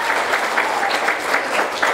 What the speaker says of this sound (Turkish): Bir alkış sevgili arkadaşımız için gelsin.